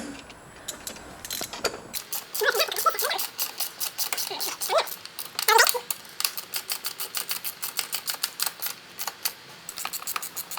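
A bolt being tightened with a ratchet during a Crawford AOS install on a 2015-2017 Subaru WRX, rapid rhythmic clicking in bursts, close and fairly loud, with short pauses between runs.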